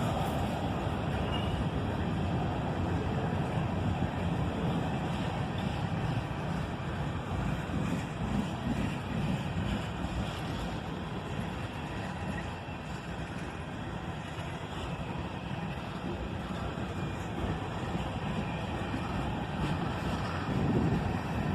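Holiday train locomotives 3463 and 3465 roll through a switch at night to rejoin the main line, a steady low rumble and rolling noise heard from a distance with wind across the microphone and no talk.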